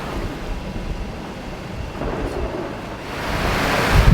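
Thunder from electrical storms rolls around a solo sailboat heading toward Panama, a low continuous rumble swelling louder toward the end over wind and sea noise.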